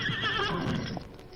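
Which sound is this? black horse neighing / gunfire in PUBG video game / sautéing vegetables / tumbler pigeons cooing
black horse neighing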